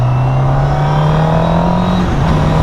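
A Honda CBR Fireblade 1000 sportbike engine drones loud and close at steady high revs, pitch climbing gradually as it accelerates, with strong wind rush and no talk.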